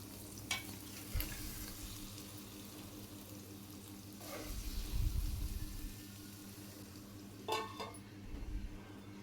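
A spatula stirs spinach and egg fry in a pan, giving a few scraping strokes and soft sizzling over a quiet background hiss, with one louder burst of stirring in the middle.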